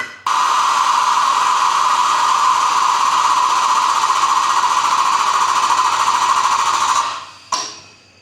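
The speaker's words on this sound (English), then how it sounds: "Then attach the airline from the compressor, and now we're gonna step on it and hope for the best" An air-over-hydraulic pump runs loud and steady while pressing out a rear suspension bushing on a Peterbilt 389 truck. The constant mechanical whine cuts off near the end, then gives one short burst.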